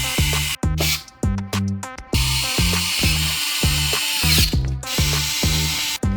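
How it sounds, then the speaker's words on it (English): A power screwdriver drives screws into the plastic covers of a Lenovo ThinkCentre all-in-one computer, giving repeated short whirring bursts with ratcheting stops, close and loud. "now let's install all the screws for all the plastics."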